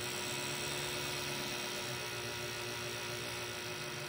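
Original 1970 Pontiac Ram Air III V8 idling near 800 RPM, a steady, even rumble held close and loud throughout with no voices over it.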